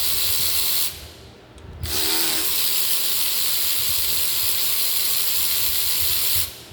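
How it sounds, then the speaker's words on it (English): Low-torque electric ratchet working on a 2016 Malibu 1.8 hybrid engine, a loud steady whirring buzz that briefly stops, then resumes and runs continuously close to the microphone. "This electric ratchet is a low torque ratchet"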